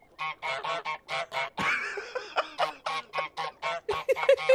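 Repeated honks from the goose in Untitled Goose Game, a dozen or so loud, close calls in a quick, uneven rhythm, with a brief rough flurry midway and no talk.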